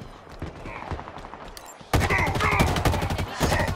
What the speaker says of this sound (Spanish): ¡Sigan disparando!